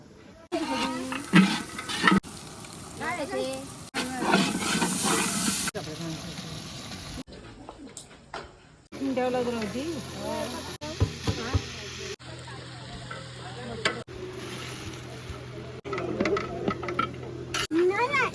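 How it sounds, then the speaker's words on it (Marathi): Dal bubbling at a rolling boil in a pot on a village stove, with steady sizzling and hissing through several breaks, under nearby talk and a voice. "इथे डाळ बनते चांगली उकळी आलेली आहे"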